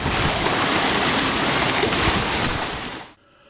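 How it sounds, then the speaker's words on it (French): Loud, dense roar of rough sea waves and wind buffeting the microphone, continuous, then cutting off abruptly near the end. "la mer est agitée"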